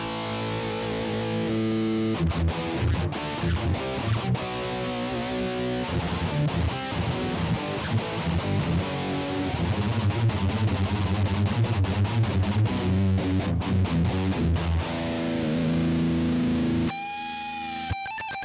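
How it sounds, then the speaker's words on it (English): Heavily distorted electric guitar through the Zoom G1's extreme distortion effect plays loud, crunchy chords and riffs with a buzzing, saturated tone, ending in a brief sustained squealing note. "next uh, extreme distortion, it's Zoom's own thing"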